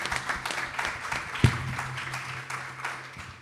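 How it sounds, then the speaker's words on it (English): Brief, fairly faint applause for teachers and educators at a virtual student wellness launch event, a few seconds of scattered clapping with a single sharper clap standing out. "I think we definitely want to give a round of applause for our teachers and educators."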